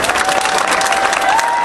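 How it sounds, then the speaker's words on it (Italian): Audience applause at an evening event of the San Bartolomeo festival, a steady dense wash of clapping from a large crowd, loud and sustained throughout with a faint tone running beneath. "Vediamo, sentiamo attraverso un applauso."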